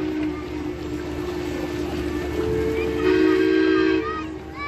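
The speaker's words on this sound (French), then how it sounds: "un beau concert de sifflet à vapeur entre les bateaux Savoie et la Suisse" Steam whistles of the paddle steamers Savoie and La Suisse sound together in overlapping, sustained tones, one joined by another higher whistle midway, with hissing steam in the background, during a naval parade at Vevey.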